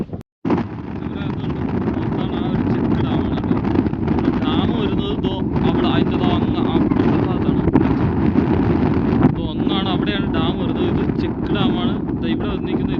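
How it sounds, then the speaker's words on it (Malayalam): Cold wind gusts hard and steadily across the microphone at a check dam near hills, a constant loud rushing roar with a person's voice faintly under it. "ഇപ്പോൾ നല്ല തണുത്ത കാറ്റ്, സൂപ്പർ"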